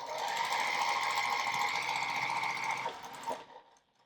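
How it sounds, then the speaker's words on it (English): Sewing machine stitching a quarter-inch seam across a folded fabric border on a charm pack wall hanging, a steady fast mechanical whir running continuously for about three seconds, then slowing and stopping. "finish sewing 1/4 inch seam across there"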